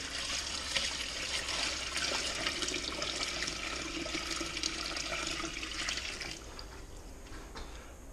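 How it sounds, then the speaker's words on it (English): Water being poured into a mini washer tub, a steady, close, rushing splash that runs for several seconds before thinning to a lighter trickle near the end, with no talking. "Alright, I got some more water. Loading it into the mini washer."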